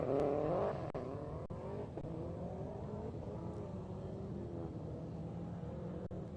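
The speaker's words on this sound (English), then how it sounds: "Wow, that car really does get away." A rally car launches from the start line of a hillclimb at Mullinavat, its engine loud and close at first, revving through rising gear changes as it pulls away.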